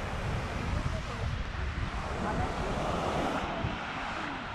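Mediterranean Sea surf on the beach at Netanya in October, a continuous rushing wash of waves with some wind buffeting the microphone, steady and fairly close.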